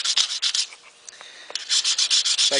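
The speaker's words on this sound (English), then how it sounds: "So I'm going to bring that high spot down just by filing" A hand file scrapes across stainless steel car trim in quick, close rasping strokes, an even rhythm that pauses briefly midway before resuming.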